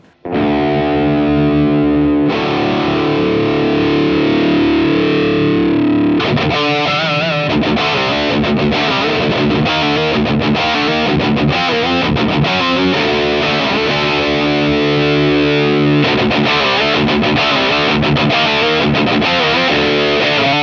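Electric guitar through an Abasi Pathos distortion pedal with treble boosted, loud saturated chords and riffs played continuously with no talking, bright and dense throughout.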